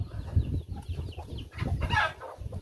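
Brooding hens in a pen cluck in low, close murmurs, with a brighter squawk near the end and no one talking.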